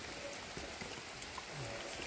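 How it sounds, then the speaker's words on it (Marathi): Rain falls during an outdoor Gauri festival gathering in Konkan, a dense, even hiss of steady downpour that fills the whole moment without pause. "वरुण राजांचं आगमन झालंय."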